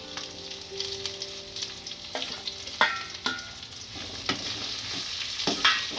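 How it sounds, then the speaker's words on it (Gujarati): Onions and capsicum fry in a pan for soya chilli, a steady close sizzle broken by several sharp spatula scrapes and stirring knocks, with no talking. "કાંદા શેરવી નાખીશું. હવે કેપ્સિકમ નાખીશું."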